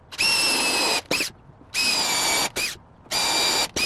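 A power drill drives 2.5-inch wood screws into a beginner's wooden sofa console table, whining in three loud, close bursts with brief pauses between them and a short spurt after each as a screw seats.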